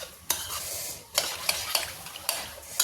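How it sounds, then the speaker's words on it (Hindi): Hot oil sizzles softly as spices are tempered, while a spoon stirs and scrapes in the pan, with several sharp clinks at irregular intervals. "जैसे मैंने तड़का लगा दिया है"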